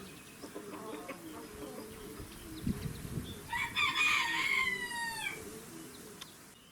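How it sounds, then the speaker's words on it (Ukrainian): A rooster crows clearly midway through, with soft clucking and scattered chicken sounds from hens eating grass in an otherwise quiet village outdoor setting. "Всі петухи зібрали всіх своїх курочок і їдять травичку."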